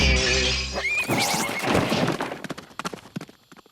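Cartoon horse in a Lucky Luke animated adventure set in Mexico: a whinny-like harmonic cry opens, followed by a crashing smash, then rapid clip-clop hoofbeats that grow sparser and fade.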